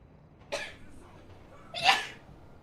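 A sneeze comes from within a GTA roleplay game, two short bursts close by. The second is louder and sharper, and each stands out clearly against quiet background hum.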